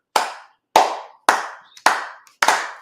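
People clapping in five separate sharp bursts, evenly spaced about half a second apart, each loud and close with a quick decay and no talk.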